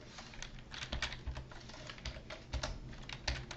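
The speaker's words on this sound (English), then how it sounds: "let's type in the keyboard code" Fast typing on a computer keyboard, close and clear, with rapid uneven key clicks and a few heavier thumps like a spacebar, quiet overall with no voice.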